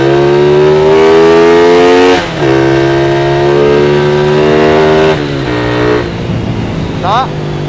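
A custom-tuned four-speed Yamaha Exciter 135 motorcycle engine revs hard and loud up close, holding high with brief dips between throttle blips and settling near the end.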